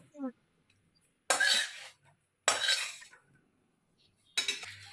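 Cooked jute greens scraped out of a kitchen pan into a container, heard as three short, fairly loud scraping bursts of utensil on metal, separated by quiet gaps.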